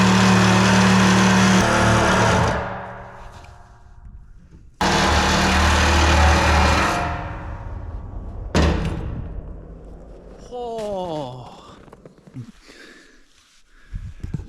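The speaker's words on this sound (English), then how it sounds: "I never really explained why I'm using the Sawzall and not a grinder or something, or a torch." A Sawzall reciprocating saw cuts into a steel oil tank of roughly a thousand liters, being made into an evaporator. Loud, harsh cutting runs in long bursts that start and stop abruptly, then fade to quieter clatter and a brief squeal.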